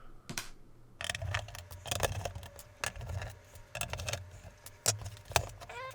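Screws being removed from a device, heard as a run of small, close metallic clicks, ticks and light rattles in irregular bursts, with no talking.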